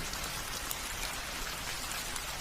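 Gentle rain falls in a Bengali cartoon scene, a soft, even hiss of drops heard alone, fairly quiet and unbroken throughout.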